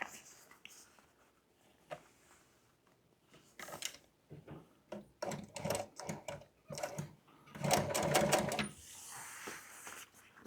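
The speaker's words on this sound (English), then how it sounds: "Sew it all the way around." Sewing machine fitted with a welt foot stitching welt around an old-school boat cushion in an upholstery shop, running in several short, fairly quiet bursts with pauses and handling noises between them.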